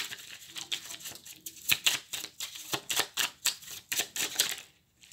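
Oracle cards being shuffled and drawn during a ritual, heard as close, rapid papery flicks and slaps in an irregular patter that stops abruptly at the end.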